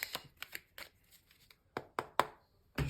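Tarot cards being shuffled by hand, a series of short papery riffles and slaps spaced irregularly, close and fairly quiet with no talking.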